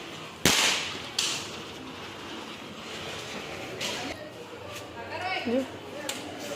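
Bidi bomb firecrackers bursting during Dev Diwali celebrations outdoors, with a loud sharp crack near the start and several fainter pops after, over background chatter and voices.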